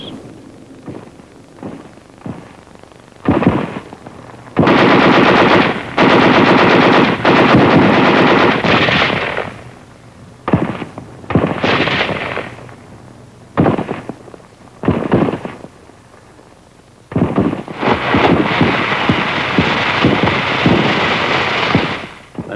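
Machine guns rattle in long, dense bursts during World War II combat on Okinawa, where hillside caves and pillboxes are under attack. Loud, close fire alternates with quieter gaps and scattered distant shots.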